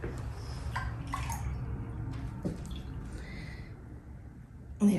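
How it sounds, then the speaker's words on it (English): Half a cup of whey is poured into a container for lemonade kombucha, giving soft splashing and dripping sounds with gurgles, fairly close and quiet, ending in a small clunk. "So I'm gonna pour that into here."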